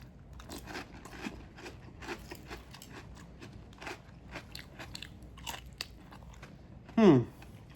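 Someone chews a mouthful of General Mills Cinnamon Toast Crunch cereal up close, with a run of crisp, irregular crunches and a brief louder burst near the end.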